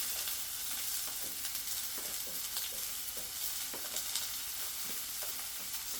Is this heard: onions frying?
yes